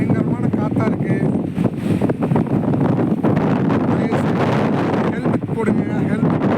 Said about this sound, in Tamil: பாருங்கள், காற்று சரியான காற்று எப்படி அடிக்குது பாருங்களேன்.